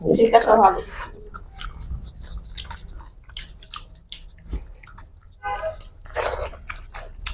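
Close, wet chewing and crunching of chillies eaten with dried-fish eggplant curry and hot rice, soft irregular bites repeating, with a brief voice at the start and faint breaths between mouthfuls.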